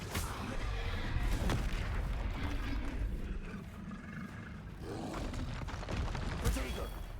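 Spell blasts cast in the wizarding game Hogwarts Legacy: rapid bursts of magical explosions and impacts in a busy, rumbling fight, with a couple of sharp flares standing out as a player shouts spell names throughout.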